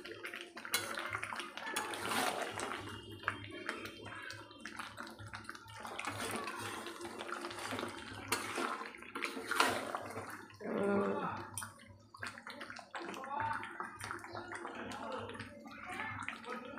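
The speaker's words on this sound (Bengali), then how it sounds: "দেখো জল দিয়ে দিয়েছি" Water pours and splashes into a pan of oiled potatoes on the stove, a running, gurgling stream with some clatter, continuing for several seconds at close range.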